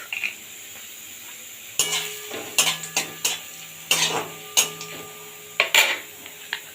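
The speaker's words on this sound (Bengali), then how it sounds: "এইভাবে হালকা হালকা ভেজে নেবেন গ্যাসটা লো রেখে" Food frying lightly in a pan over low gas for a papaya cucumber chicken stew: a soft continuous sizzle broken by repeated clinks and scrapes of a spatula against the pan, close and with no talking.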